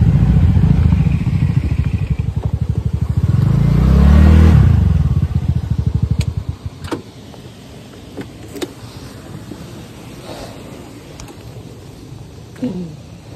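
Motorbikes near the powerhouse in Pokhara, a loud close engine rumble with revving that swells around the fourth second, then fades to quieter idling and scattered clatter of parked bikes.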